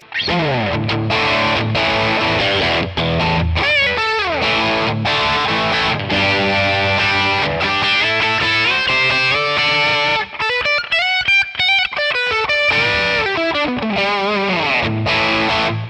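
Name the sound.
electric guitar lead tone, Classic Reverb Tonex model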